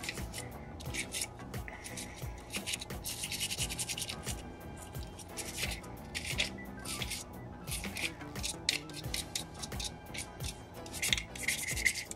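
Cleaning a firearm part with accuracy oil: steady rubbing and scratchy wiping strokes, close and continuous, with bursts of brisk friction throughout and no talking.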